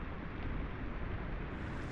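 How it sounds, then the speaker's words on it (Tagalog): Strong gusting wind blowing across an exposed spot on the water during a thunderstorm on a solo fishing trip, a loud, rumbling low roar buffeting the microphone for a couple of seconds. "Ano naman yung hangin, oh."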